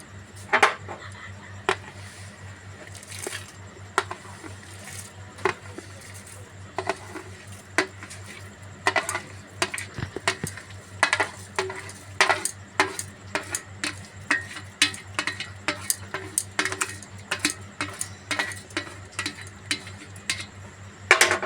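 Gobindobhog rice with cardamom being stirred in a payesh pot, a steady run of soft, irregular scrapes and clinks of a spoon against the pot over a low, constant background hum.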